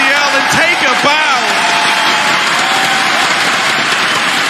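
Live esports arena crowd at a Counter-Strike: Global Offensive grand final on Train, roaring and applauding after an ace, a dense, loud, continuous wash of cheering with a commentator's voice over it at the start.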